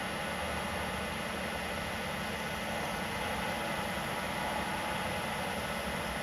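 A lathe spins a pen blank at 2,000 RPM with shop polish melting on it, giving a steady, unbroken motor hum and broadband whir throughout, close and even in loudness with no talking.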